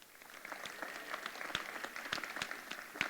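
An audience at a Freedom Fund banquet applauds the evening's honorees: a steady patter of clapping hands with scattered sharper claps, moderately distant and fairly soft, with no voices over it.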